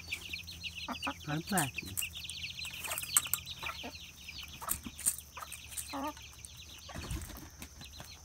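Backyard chickens and chicks cluck and chirp in a busy coop, with wing flaps and scratching, while a person talks among them.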